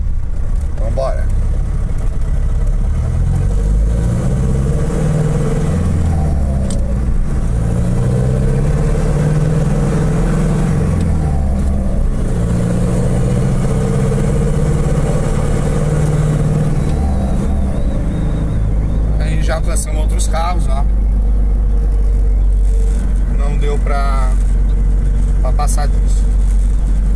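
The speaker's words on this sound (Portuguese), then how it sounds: "dar uma arrancadinha um pouco mais rápida aqui para ver o que, como é que ele vai se comportar" A Ford F-1000 truck with an MWM X10 turbo engine and K16 turbo pulls away in a quick launch, its diesel drone rising and falling steadily up close, with occasional whistling bursts near the end.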